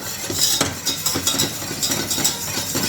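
Butter and flour are stirred together in a saucepan, with a run of soft scraping strokes and light metallic clinks repeating close by at a steady pace.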